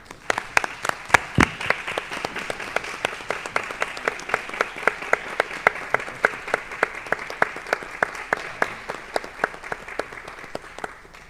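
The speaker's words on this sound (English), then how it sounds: "Guys, I think we do deserve them a round of applause." A roomful of people at a county government meeting applaud, with many sharp individual claps standing out over a continuous clapping texture that holds steady for about eleven seconds.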